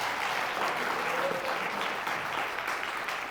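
An audience claps at a quiz game match, a dense, steady wash of applause that fills the room and continues without a break.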